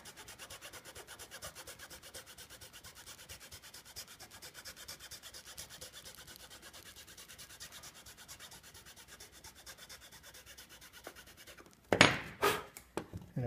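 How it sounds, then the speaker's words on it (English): Fine metal file rasping on a band organ violin pipe, a steady continuous scraping over about eleven seconds, close and moderately quiet, ending in a few louder sharp knocks. "So now we'll switch to our finer file."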